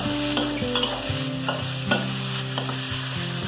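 Long beans stir-frying in a pan for a Thai stir fry with minced pork, a continuous loud sizzle broken by repeated scraping and tossing strokes of a utensil against the pan, close up with no talking.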